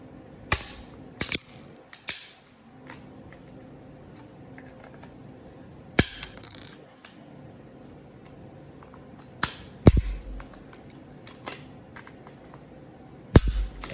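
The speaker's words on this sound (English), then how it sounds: "We're going to carefully use these pliers to try and crack open the case." Pliers crack a hard plastic card case open at the corners, giving a series of sharp, loud snaps and cracks spaced irregularly across a quiet background, with no talking.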